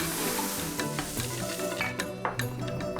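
Meat stir-fried with garlic, galangal and lemongrass sizzles steadily in a hot pan, with scraping utensil strokes and light clinks close by and no talk over it.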